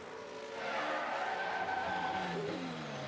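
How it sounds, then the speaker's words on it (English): An F1 car in the video game F1 Manager 2023 spins and skids, giving a steady engine whine with tire screech over a continuous race-car drone, no voices present. "Oh, the Staffen spun."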